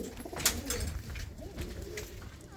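Desi pigeons kept in a loft give low, rolling coos up close, a few overlapping calls with brief flaps and rustles.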